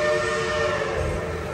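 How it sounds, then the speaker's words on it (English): Train passing at night at Dollywood during the Christmas season, a steady mechanical rumble with sustained whistle-like tones, close and moderately loud, with no voices. "That's the train going by."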